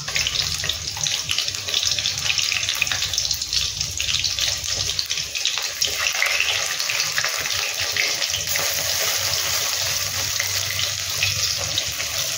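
Prawn fritters fry in oil in a pan over a raised flame, making a loud, even hiss with a fine crackle that holds steady from start to finish, with no voices.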